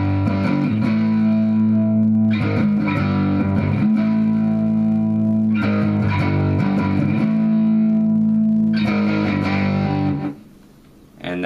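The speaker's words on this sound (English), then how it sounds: "the distortion's kicked up" A heavily distorted electric guitar plays loud, sustained chords that ring on continuously and drop away briefly near the end.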